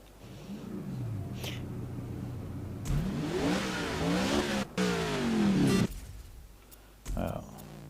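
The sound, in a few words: Holden Commodore engine revving in GRID 2019 video game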